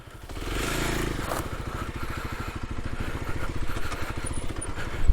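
A Kawasaki KLX300 dual sport motorcycle riding off-road, its single-cylinder engine putting out a steady throbbing drone that rises toward the end, with gravel clatter and wind noise, close and loud.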